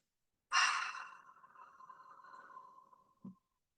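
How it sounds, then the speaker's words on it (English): One long, deep breath drawn in through the nose and released out through the mouth during a hatha yoga session, a close, soft airy rush fading slowly, ending with a brief low puff. "take a big deep breath. Inhale through your nose. Exhale out your mouth."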